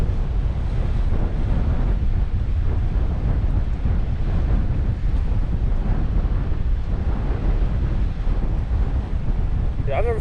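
Strong wind buffets the microphone at a low-tide Bermuda seashore, a dense continuous roar with surf mixed in, loud and steady throughout with no clear talk.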